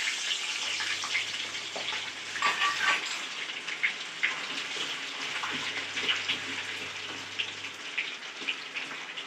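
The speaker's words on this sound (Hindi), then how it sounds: "नया आलू है, जल्दी गलता नहीं, इसीलिए हम थोड़ा इसे फ्राई कर लेंगे।" New potatoes fry in hot oil while a kofta curry is made, giving a steady close sizzle and hiss with small crackling pops throughout.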